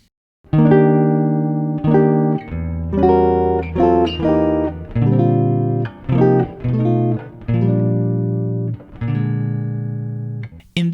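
Jazz guitar chord melody of Silent Night, measures 11 to 14, played solo: sustained chords that change every second or so, with steady loud strums across about ten seconds and no voices.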